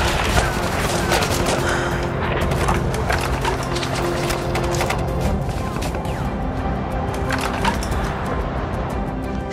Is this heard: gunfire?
yes